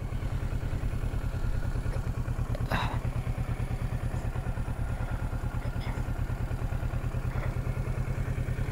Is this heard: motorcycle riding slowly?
yes